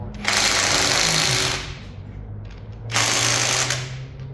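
An impact wrench removes bolts from an RB30E+T engine during a teardown after thrown rods, with two loud, close bursts of rapid hammering, each about one and a half seconds, separated by a quieter pause.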